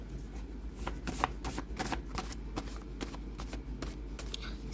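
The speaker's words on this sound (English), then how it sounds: "It's a little hard to shuffle these index cards." Index cards used as tarot cards being shuffled by hand, a quiet run of quick papery riffles and flicks heard close up with no talking.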